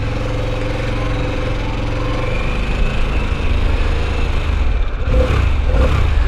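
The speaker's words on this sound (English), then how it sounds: "Love the sound of this engine already, guys. It's got a nice throaty growl to it, nice intake growl to it." Harley-Davidson Pan America motorcycle engine at a low rumbling idle that rises into throttle blips near the end, heard close and loud with no talk.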